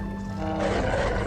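A wolf in the survival game Vintage Story lets out a low, rough growl that swells into a louder snarling roar midway, close and harsh, with no talking over it.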